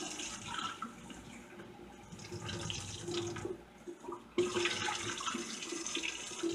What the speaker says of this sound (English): you rinse it out with cold water